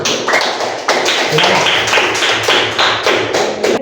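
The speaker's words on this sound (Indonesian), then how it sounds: "Tepuk tangan." A class applauds together in a rhythmic pattern of loud, close, evenly spaced claps that runs for several seconds, with no talking over it.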